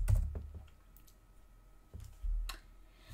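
Short bursts of clicking keys on a computer keyboard, a few quick taps near the start and another cluster toward the end, close and fairly quiet.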